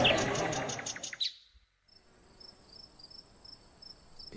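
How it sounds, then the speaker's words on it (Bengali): Crickets chirp continuously at night from nearby bushes, a faint, steady high trill that begins after a sharp burst of other sound dies away and carries on alone. "ঝিঝি পোকার অনবরত ডেকেই চলেছে পাশের ঝোপঝাড় থেকে"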